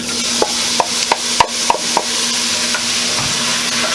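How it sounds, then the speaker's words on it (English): Diced tomatoes stirred into a pot of chili, a utensil knocking the pot several times in a quick rhythm over a soft steady sizzle, close and with no talk. "Give that a stir."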